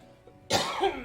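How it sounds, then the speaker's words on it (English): A single sharp cough from a StarCraft match commentator bursts out after a brief quiet moment, close and loud, followed by a short rasping tail. "I need to stop coughing"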